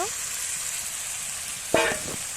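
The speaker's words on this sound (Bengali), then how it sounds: "এরপরে আমি এখানে দিয়ে দেবো মাংস" Meat dropped into hot, spiced oil in a home kitchen pan, giving a steady, moderate sizzling hiss throughout, briefly interrupted near the end by a short, honking tonal sound nearby.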